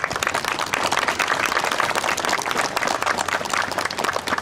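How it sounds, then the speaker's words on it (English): An audience at a school ribbon cutting ceremony applauds steadily, a dense wash of many hands clapping at moderate volume for a few seconds with no speech over it. "give him a nice round of applause again"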